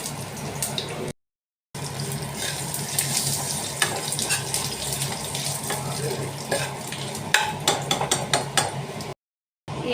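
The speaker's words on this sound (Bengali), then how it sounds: "ওই সবজি ভাজার তেলেই দুটো তেজপাতা আর একটু পাঁচফোড়ন" Two bay leaves and a pinch of five-spice sizzle in the oil left from frying vegetables. A dense, continuous crackle with sharp spits and pops stays close and fairly loud throughout, broken by two brief silent gaps.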